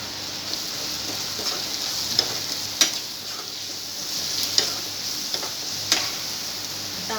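Onion sautéing with salt in a pan for Maharashtrian potato bhaji, a steady bright hiss with occasional sharp ticks of a spoon against the pan, close and moderately loud.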